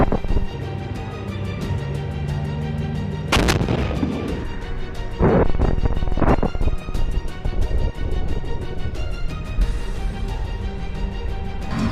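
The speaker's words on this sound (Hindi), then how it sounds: "जिससे टैंक में जोरदार धमाका होता है" Heavy booming blasts as a tank explodes, with cracks of gunfire thundering over a dense, continuous roar of battle noise, several sharp bursts standing out.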